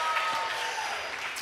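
An audience at a Kwanzaa celebration clapping their hands, a dense, even burst of applause filling the room for the whole moment, with faint cheering mixed in.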